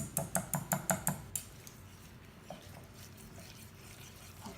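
A whisk beating milk in a pot on the stove, opening with a quick run of about seven sharp metallic clinks, then a few softer taps and quiet stirring; fairly faint.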